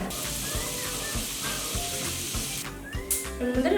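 Rice frying in butter in a pan, stirred steadily, gives a continuous close sizzle with soft scraping strokes, growing louder near the end.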